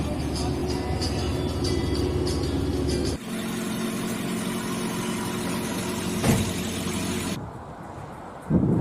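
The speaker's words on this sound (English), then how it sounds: "more than 24 hours spending in this wonderful car" A car's engine hums steadily from inside the cabin during a long cross-border drive toward Latvia and Ukraine, a continuous low drone that drops in level partway through, with a brief bump later and a short burst at the end.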